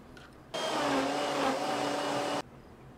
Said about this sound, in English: Now I'm gonna blend them real well.